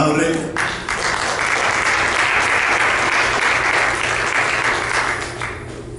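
A church congregation claps together in a dense, steady burst of applause lasting several seconds before tapering off, loud and close, without talk over it.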